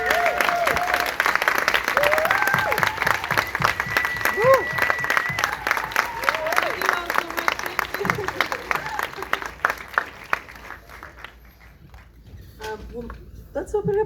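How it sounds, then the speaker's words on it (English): A theatre audience gives a dense, sustained round of applause for a film's cast and crew at a screening Q&A; voices talk over the clapping, which thins toward the end. "I'm in, and we can give you a round of applause."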